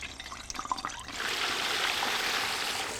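An 11.5-pound turkey lowered slowly into 350-degree oil in a deep fryer, faint handling noise giving way to a sudden, steady rushing bubble and hiss that holds at a moderate level.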